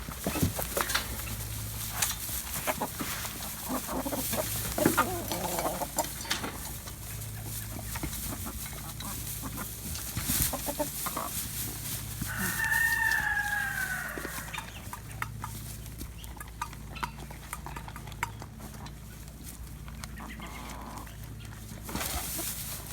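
Chickens, roosters, ducks and guineas at a farm pen fill the air with steady clucking and squawks, a clearer crowing-like call rising in the middle, all at moderate distance over a low hum.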